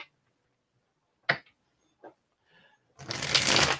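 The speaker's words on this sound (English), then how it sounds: "a few more shuffles and I think we're good" A deck of tarot cards is shuffled up close, with a few isolated flicks and snaps of cards before a dense, rapid riffling burst at the end.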